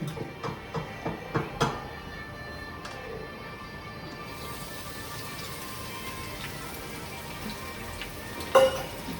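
Onions just added to a hot pan fry with a steady, even sizzle that fills the whole stretch, after a few soft knocks at the start and a brief clatter near the end.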